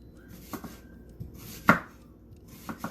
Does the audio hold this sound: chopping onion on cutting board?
yes